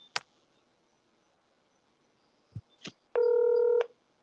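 Faint clicks and taps come first, then one short, steady electronic ringback tone sounds on an outgoing phone call, lasting under a second and heard alone.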